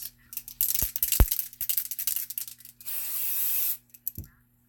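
Aerosol can of dry shampoo sprayed in several short hissing bursts and then one longer continuous spray, close and fairly loud, with faint rattles from handling the can.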